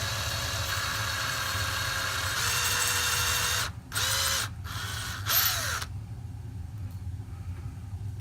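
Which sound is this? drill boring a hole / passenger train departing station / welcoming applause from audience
drill boring a hole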